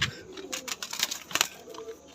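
Pigeons in a high-flying pigeon breeding loft coo nearby, with a few soft, throaty, bubbling calls in quick succession over a quiet background.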